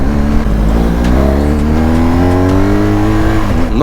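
A 2022 BMW R1250 GS Triple Black motorcycle accelerates hard through its gears, recorded up close. The loud engine note climbs steadily in pitch, then drops briefly at a shift and starts rising again.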